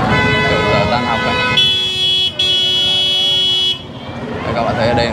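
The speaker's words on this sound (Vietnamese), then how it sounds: "các bạn thấy ở đây bấm còi rồi inh ỏi các thứ là rất là ồn ào và lộn xộn" Car horns sound in busy Manila street traffic outside a public school at dismissal time: a long, loud blaring horn holds for about two seconds over a dense roar of engines and crowd noise, with voices chattering beneath.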